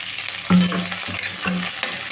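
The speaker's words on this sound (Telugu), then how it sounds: "కలర్ వచ్చిన దాకా వేగాలండి ఉల్లిపాయ ముక్కలు వేయించుకున్నాము చూడండి" Chopped onion pieces with curry leaves fry in a pan for a cabbage and yellow gram curry, a steady close sizzle broken by a few stirring scrapes, with no voices.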